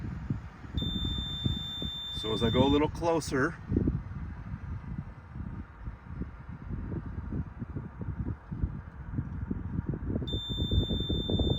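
A UAS Sentry Remote ID receiver alarm emits a high, steady beeping tone warning of a nearby drone, cutting off and later resuming, over rumbling wind noise while a person briefly speaks.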